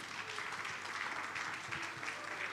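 Soft, steady audience applause fills a conference room at a 60th birthday conference, a continuous distant patter of many hands with no voices over it.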